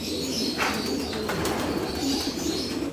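Racing pigeons in a loft aviary coo and shuffle continuously, with soft wing flaps and low murmuring close by, no voices over them.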